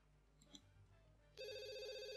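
A telephone rings in The Sims 2, a bright electronic trill that starts suddenly after faint room tones and keeps ringing steadily to the end.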